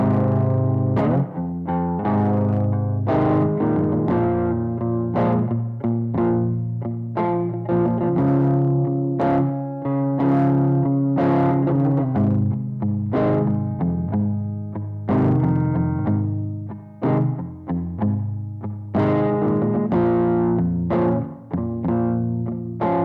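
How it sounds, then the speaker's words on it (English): Singing is looped through a vocal effects pedal, heavily processed and layered into a dense, distorted, harmonically rich stack of repeating sung phrases that plays continuously and loud. "I'm using this through the vocal effects pedal so you can hear it and how it sounds."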